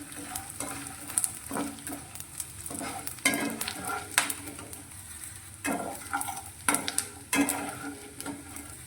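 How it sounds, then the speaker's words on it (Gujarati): Steady sizzling of edible gum frying in hot ghee, punctuated by irregular scraping stirs against the pan. "બીજા ગુંદને પણ આપણે આ રીતે તળી લઈશું"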